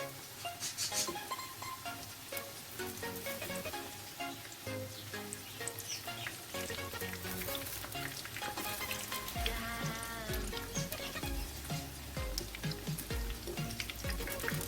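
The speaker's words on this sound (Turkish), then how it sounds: "Çiçeklerim artık kızarmaya başladı arkadaşlar." Dough flowers fry in a pan of hot oil, a close, busy bubbling sizzle with sharp spitting crackles and occasional turning sounds, continuing steadily with nobody talking.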